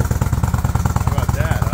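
A dirt bike engine starts up and settles into a loud, close, rapid chugging idle with steady rhythmic pulses.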